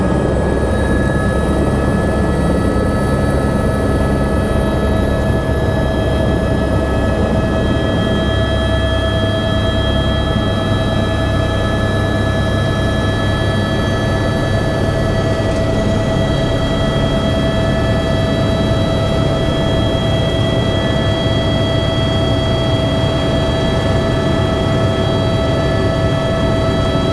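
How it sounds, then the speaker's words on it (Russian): A helicopter flies over the Mont Blanc mountains, its loud, steady rotor and turbine drone constant throughout with sustained whining tones on top, heard from inside the cabin with no talk. "Это мой первый полет на вертолете"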